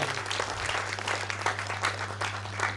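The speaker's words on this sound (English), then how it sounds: "So big, big, big applause for Leena." An audience claps at a film festival panel with women directors of Indian cinema: dense, steady applause from many hands sustained throughout, over a low constant hum from the hall.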